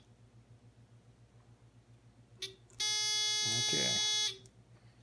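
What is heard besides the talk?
continuity checker buzzer beeping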